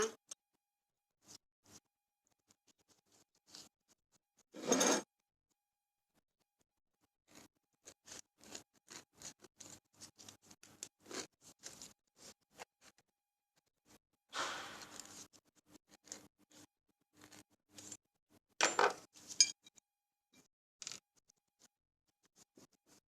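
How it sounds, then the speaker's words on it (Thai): A ripe avocado is peeled by hand, giving scattered soft scratches and scrapes of skin pulling away. The bursts are brief and close, with a few stronger rasps separated by quiet gaps. "เอาผลอะโวคาโดมา ปอกก่อนนะคะ"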